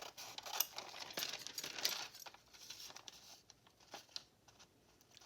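Scissors snipping and trimming paper for a handmade ephemera holder craft project, close crisp cuts and rustling paper in irregular bursts, fairly quiet with no talking.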